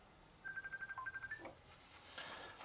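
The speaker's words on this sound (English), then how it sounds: "And that's my phone." A mobile phone rings in a workshop shed with a quick run of about ten electronic beeps, faint and close, followed by a brief rustle and low background hiss.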